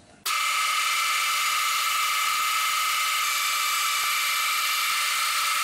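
A 9.5 millimeter drill bit bores into a metal mounting plate for a dividing head, starting abruptly and holding a steady, loud, high-pitched whine from the drill throughout.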